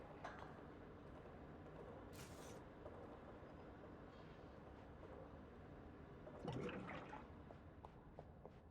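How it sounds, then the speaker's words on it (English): A water cooler glugging in the Watch Dogs: Legion video game, a soft bubbling gurgle rising briefly near the end over a steady low ambient hiss, no talking. "That glug sound is this water cooler here."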